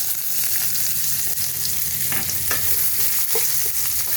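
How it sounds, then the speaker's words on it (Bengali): Chopped onions fry in hot oil, making a continuous loud sizzle with occasional scraping and stirring noises close by, and no voices. "এখন পেঁয়াজ কুচানোগুলো এই তেলের মধ্যে দিয়ে দেবো।"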